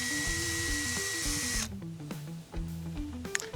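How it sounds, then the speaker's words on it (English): A steady, whining drill with a wire brush runs close by, cleaning corrosion off a bolt, its motor pitch stepping up and down with brief scratchy scrubbing noises. "Get it in the end of a drill, wire brush."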